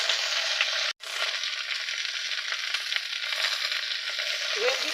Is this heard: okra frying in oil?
yes